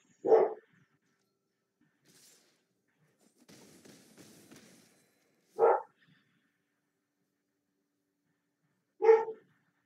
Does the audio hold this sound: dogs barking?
yes